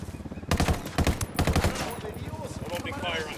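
Rapid gunfire in the video game Ghost Recon Wildlands: loud automatic bursts of close shots start abruptly, then settle into a denser rattling fusillade, with a voice talking underneath.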